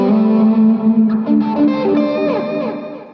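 Distorted electric guitar played through a standard plate reverb pedal on a worship pedalboard, a sustained chord then a short run of single notes, tails ringing and fading at the end.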